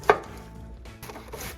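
A single crisp knife chop cuts through cabbage on a board while thinly slicing it for coleslaw, one sharp close tap followed by quiet.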